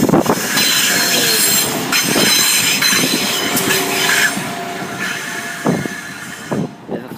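Train wheels at Cradley Heath level crossing pass nearby with a long, high flange squeal, mixed with rumbling and rail clatter that eases toward the end.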